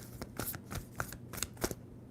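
A tarot card deck is shuffled by hand, a steady run of soft riffling flicks and papery snaps, close and quiet, with no talking.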